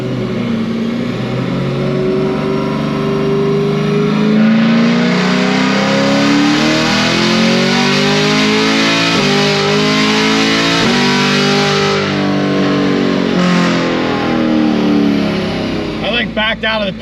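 A car engine is held at full throttle, the revs climbing steadily and then dropping at each gear change, one shift near 6,800 rpm. It is loud, close and strained, with several upshifts in a row.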